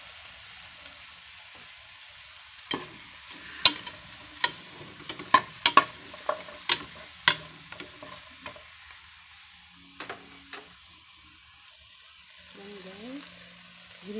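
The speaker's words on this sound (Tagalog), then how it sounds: "Ginigisa natin ang ingredients sa bili ng mantika." Ingredients sautéing in cooking oil for pork tail sinigang, with a soft continuous sizzle broken by a run of sharp spatula taps and scrapes against the pan, close and fairly loud, followed by quieter frying with a few faint voice sounds.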